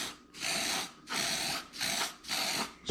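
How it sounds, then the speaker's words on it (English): Wood polish spray hisses from an aerosol can onto an Arizona Iced Tea can alcohol stove in four close, steady bursts of about half a second each, separated by short pauses, with no talking. "spray some on the outside of that, the inside of that, and the outside of this one."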